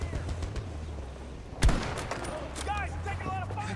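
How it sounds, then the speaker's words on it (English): Gunfire from the Battlefield 1942 video game, a loud burst of shots around the middle followed by scattered distant firing and whistling tones, with soldier voices chattering faintly in the background. "Guys, taking a lot of fire over here."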